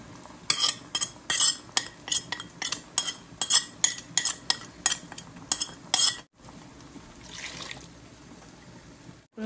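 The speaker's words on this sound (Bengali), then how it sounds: "রোস্টের মশলাটা কষানো হয়ে গেছে" Roast spice masala is stirred in a pan with a metal spoon, a fast run of bright scraping and clinking strokes that stops abruptly, leaving a faint wet simmer behind.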